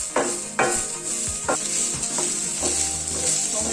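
Turkey berries frying in oil, stirred in a pan with a few scraping strokes over a steady bright sizzle, close and moderately loud, with no talking.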